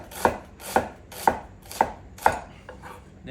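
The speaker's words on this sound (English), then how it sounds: "Fennel, cut the fennel in half. and then just nice thinly slices." A knife slices a halved fennel bulb thinly on a cutting board, giving five crisp, evenly spaced chops about half a second apart, close and clear. A lighter tap follows, with no talking.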